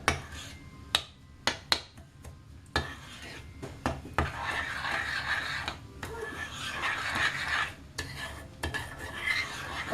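Cookie dough being stirred with sugar in a bowl, a utensil scraping and knocking against the sides in uneven bursts, with a few sharp clicks early on, close and fairly quiet.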